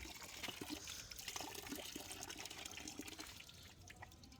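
Water is poured out for pigeons kept for racing, a quiet trickling and splashing with small drips, faint and close, running unevenly for a few seconds without speech.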